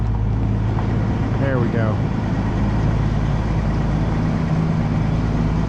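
Ford truck engine idling and pulling away, a steady low rumble throughout with a man's brief remark over it.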